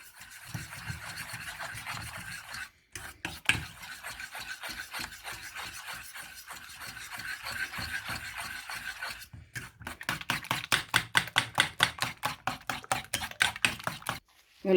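Mashed bananas and eggs being stirred together for flourless, sugar-free brownies, a steady wet scraping and rubbing in a bowl, growing into quicker rhythmic strokes toward the end, close and without talk.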